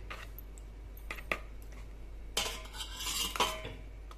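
A metal spoon clinks and scrapes against a bowl while mixing honey with amla, a few sharp taps early, then a denser burst of stirring near the end over a low background hum.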